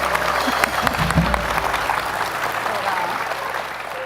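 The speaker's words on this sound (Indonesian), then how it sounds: "Tepuk tangan dong." A studio audience on an Indonesian talk show bursts into loud, dense applause that holds steady through the whole stretch, with cheering voices mixed in.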